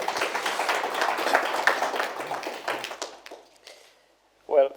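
An audience applauds and claps for a speaker at a business event, a dense burst of hands that thins out and fades over a few seconds before a voice begins to speak.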